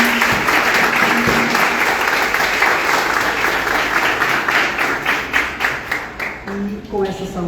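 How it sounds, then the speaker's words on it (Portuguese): Audience in a theatre breaking into sustained applause, dense clapping from a crowd that holds steady and then thins out toward the end. "eu gostaria de começar com uma salva de palmas para a mãe Gilda de Ogum."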